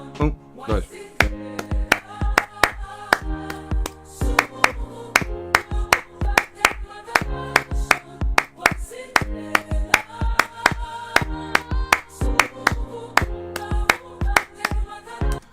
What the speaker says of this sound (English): I'm just gonna record some claps really fast.